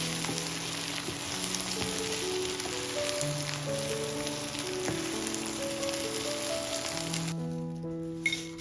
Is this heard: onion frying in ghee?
yes